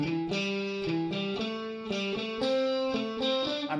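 Electric guitar runs up a pentatonic scale with effects and light distortion, phrased as repeating groups of two sixteenth notes and an eighth note, giving a steady, syncopated rhythm of bright, clearly picked notes with no talking.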